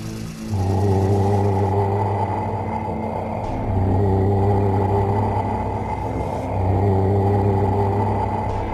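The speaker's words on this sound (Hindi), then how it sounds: "गुल्ली ने गाड़ी की स्पीड बढ़ाई और तीनों वहां से फरार हो गए" An animated car speeds away with a sustained, loud engine drone and whirring hum that swells in steady waves, with no voices over it.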